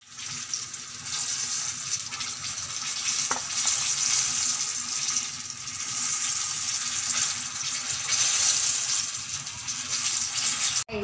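Banana spring rolls (turon) frying in hot oil, a steady loud sizzle and bubbling that runs continuously with slight swells and one brief tap near the middle.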